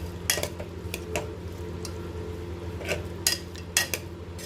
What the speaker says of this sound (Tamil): இப்போது இதில் பீட்ரூட்டு சேர்த்துட்டு நல்லா வதக்கி விட்டுக்கோங்க.